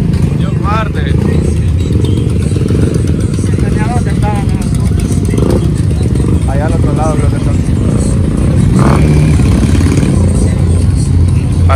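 Motorcycle or quad bike engines idle and rev nearby at a busy outdoor spot, a constant rumbling drone with passing engine surges, under steady crowd chatter and people talking.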